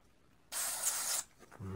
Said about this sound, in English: do a real quick flushing spray